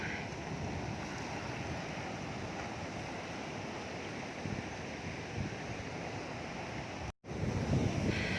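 Surf and wind at Batu Kukumung beach in Cidaun, a steady wash of breaking waves and gusty wind noise on the microphone, with a brief dropout near the end before the roar resumes.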